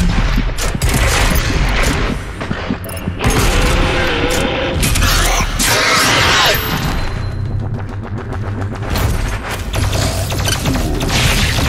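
Heavy sustained turret gunfire in the DOOM Eternal video game, a loud continuous barrage of rapid shots and booms with mechanical clatter running throughout, no pauses.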